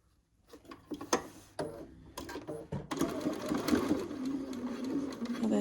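A sewing machine stitches a quilt block seam for a southwest blanket, starting after a quiet moment with short bursts, then running steadily and close up at moderate loudness.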